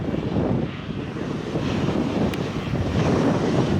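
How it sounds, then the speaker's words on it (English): Jet blast from a plane taking off roars steadily as a loud, wind-buffeted rumble carried across nearby water, with no voices. "You're really seeing the impact on the water of the jet blast when the planes take off."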